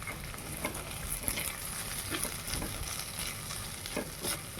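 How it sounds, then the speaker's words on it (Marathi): Spiced crushed-peanut mixture with salt and chili powder stirred and sautéed in hot oil in a pan, a steady sizzle broken by scraping stir strokes, close and continuous with no talking. "आता हे सर्व मिक्स करूया."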